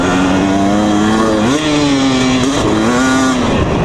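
A 2020 KTM 250 SX dirt bike engine drones loud and close during a ride. Its pitch rises and dips slightly with throttle changes, with no pauses.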